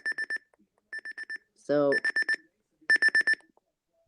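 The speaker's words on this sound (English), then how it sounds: "here is the buzzer volume" A Sangean CL100 alarm clock buzzer sounds in four loud, close bursts of rapid pulsed beeps with short gaps between them; a voice briefly speaks in the middle.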